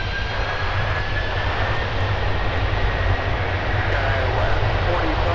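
At Minneapolis–Saint Paul airport, an aircraft takes off from runway 12 right, a steady engine roar rumbling loud and unbroken throughout while radio voices talk over it.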